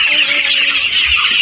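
Heat-stressed chickens in an overheated poultry coop, a dense continuous chorus of clucking and chirping close by, with no speech.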